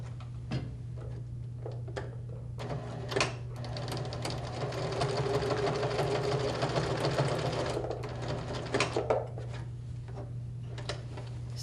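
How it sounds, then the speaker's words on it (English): A sewing machine runs a steady whirring stitch across the end of a seam, its needle ticking in a quick even rhythm at close range, with no talking. "I'm just going to sew right across the end"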